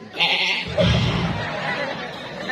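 A goat bleats loudly and close by in a long wavering cry, then gives another shorter call, with people's voices and a chuckle mixed in around it.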